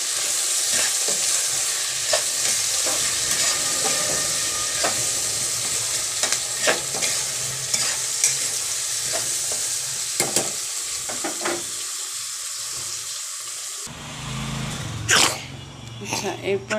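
Mixed vegetables with plenty of green chillies fry loudly in a pan while being stirred, a dense continuous sizzle broken by repeated scraping clacks of the spatula, ending with a few sharper knocks near the end.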